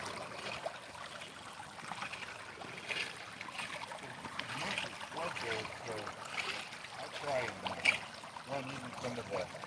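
Water runs through a gold sluice at a riverside mining bar, a steady wet rushing and trickling that carries on at moderate level throughout, with a voice talking faintly at times.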